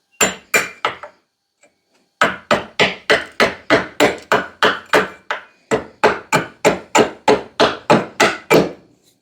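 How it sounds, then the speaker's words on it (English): A hand plane shaves down a wooden axe handle in quick, rhythmic strokes, each a loud close swish-and-knock, with a short pause after the first few before a long regular run. "and now I'll just plane that down"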